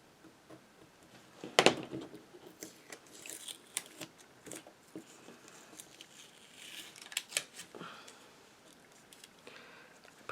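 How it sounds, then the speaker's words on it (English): A craft knife slices through white recycled Christmas card stock, with one sharp cutting snap near the start and then quieter intermittent scrapes and ticks close by. "Just use my craft knife and cut some of this white out."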